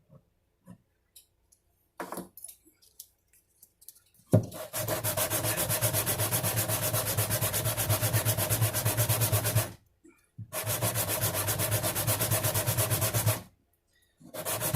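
Steady back-and-forth sanding of a guitar bridge saddle on a sanding surface, close and rhythmic, in two long bursts of dense scratchy strokes separated by short pauses, after a few light taps.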